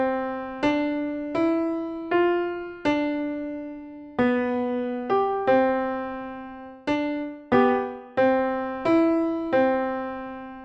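Piano playing the left-hand part of the Baby Einstein theme song, a slow series of about a dozen single low notes, each struck clearly and left to ring and decay before the next, alone with no talking.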